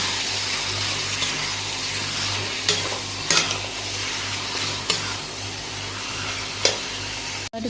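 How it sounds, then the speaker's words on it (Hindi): Chicken pieces are stirred in a hot frying pan for an Odia chicken besara. A continuous sizzle runs throughout, broken by a few scraping knocks of the spoon against the pan and a low steady hum, with no talking. "ଏବେ ଚିକେନ୍କୁ ଭଲ ଭାବରେ ମିକ୍ସ କରିନେବା"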